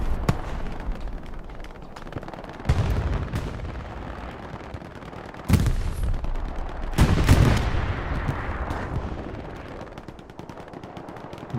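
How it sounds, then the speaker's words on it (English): A bombing run hits trenches on the Foy map at night in Hell Let Loose, with several loud explosion bursts spaced a few seconds apart over a steady bed of distant gunfire and rumbling battle noise. "Bombing run coming in across the trenches for Rogue Finns"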